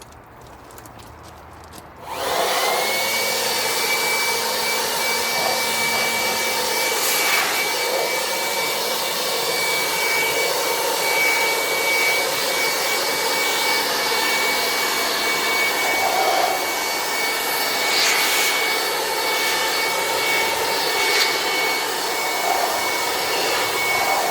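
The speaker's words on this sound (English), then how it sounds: "Another little test that I do like to do is try the blower on it." A car-drying air blower starts up after a short quiet moment and then roars steadily, loud and close, blowing water off a freshly washed car during a valeting product test.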